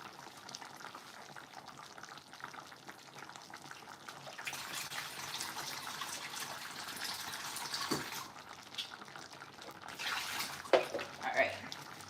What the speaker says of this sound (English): Rinse, rinse, rinse.